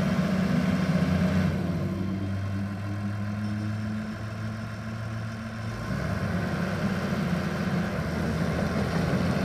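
A 2004 Caterpillar D5G LGP dozer's diesel engine idles steadily nearby with a low, constant rumble that dips slightly midway, and no talking is heard.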